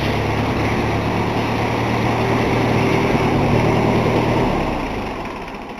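A repaired tractor engine idles steadily nearby, a continuous low rumbling drone that eases off slightly at the end.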